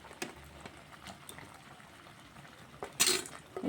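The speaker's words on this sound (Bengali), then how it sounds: "এবার আমি ভালো করে পনিরগুলি ফুটিয়ে নিচ্ছি" Butter masala gravy simmering with raw paneer cubes in a pan, soft bubbling and popping with occasional utensil clinks and a louder spattering burst near the end, close and without talk.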